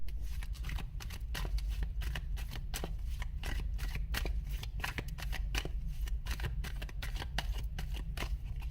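Tarot cards shuffled continuously, a steady run of crisp riffling snaps and flutters close by, with no talking.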